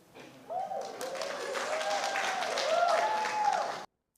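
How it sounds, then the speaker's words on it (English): An audience at a meeting breaks into applause, a burst of clapping that rises quickly and holds steady for about three seconds before cutting off abruptly. "people applaud"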